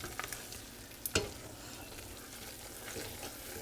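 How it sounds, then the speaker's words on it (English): Hot nut brittle candy mixture with melting butter being stirred in a pot at about 300 degrees, a faint continuous sizzle with a few soft scrapes and one sharp clack of the utensil. "I'm going to make sure that that is all stirred in well and that butter is melted."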